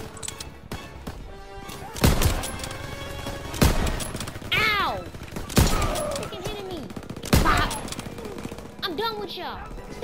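Machine gun bursts in the Call of Duty WWII game crack out in several loud, sharp volleys spaced a couple of seconds apart, with shouting voices and tonal game sounds between them.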